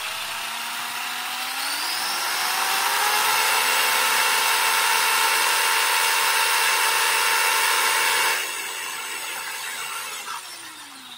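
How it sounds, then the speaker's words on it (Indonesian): A Traxxas Telluride 4X4 RC car's electric motor whines steadily and smoothly, rising in pitch as it spins up, holding a loud high whir for several seconds, then easing down, with no voices. "suara motornya itu halus sekali"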